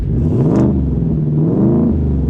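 A 2023 Ford F-150 Raptor R pickup truck engine revs up loudly and rumbles, rising and falling in pitch as the throttle is blipped, close by.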